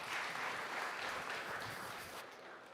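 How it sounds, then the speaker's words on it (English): An audience at a tech conference stage applauds as a presenting venture firm walks on, a steady, fairly quiet spread of clapping that eases slightly toward the end. "Round of applause, everyone."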